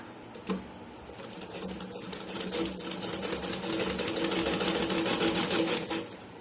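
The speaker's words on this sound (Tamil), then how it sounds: "இந்த இடத்துல தையல் போட்டு கண்டினியூவா வச்சுக்கலாம்" Sewing machine stitching folded cloth triangles for a blouse design, a rapid continuous needle rattle that builds after a short start and runs steadily, close and fairly loud.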